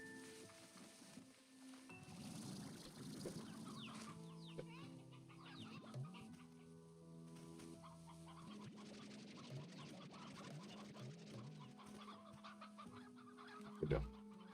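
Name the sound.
chickens clucking in video game Slime Rancher 2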